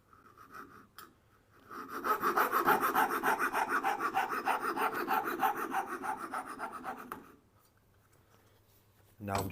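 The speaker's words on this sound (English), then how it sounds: "I'll remove this centre part here on the tails with a fret saw" A fret saw cutting the waste out of dovetail tails in wood, a rapid, even series of rasping strokes for about five seconds, close and clear, then stopping, with quiet surroundings before and after.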